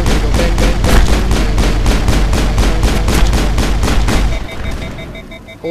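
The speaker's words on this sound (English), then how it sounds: "we're gonna keep on shooting, we're gonna go bang, bang, bang." Rapid, loud automatic gunfire from weapons in the Mass Effect video game rattles in a steady burst for about four seconds, then cuts off, leaving faint electronic tones and game ambience.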